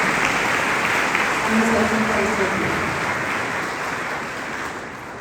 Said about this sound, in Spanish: Solamente le vamos a dar un aplauso